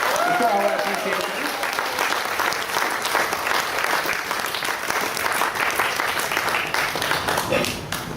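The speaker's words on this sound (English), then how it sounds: "can we also give a round of applause to the Datuk Bandar and to the Sultan of Selangor again?" Loud, sustained crowd applause at a public vigil in Petaling Jaya, steady dense clapping for the full stretch, with some voices and cheering mixed into the crowd noise.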